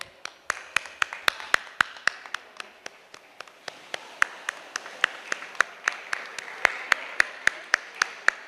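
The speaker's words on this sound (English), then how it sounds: "A huge round of applause for our heroes today." Single sharp claps ring out at an even, fairly slow pace in a large hall during a cultural event's award presentation, each clap distinct against a faint room murmur.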